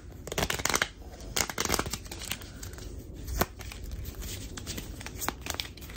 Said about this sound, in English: let's go to what's hopefully my final shuffle.